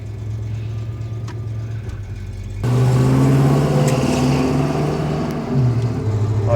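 A classic Studebaker car engine idles low, then revs up and pulls away, a steady throaty drone with a slight dip and rise as it drives.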